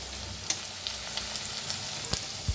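Ingredients for Maharashtrian methi bhaji roasting in a hot pan, a steady low sizzle with a few soft scraping stirs spaced through the short stretch, fairly quiet and close, with no voices.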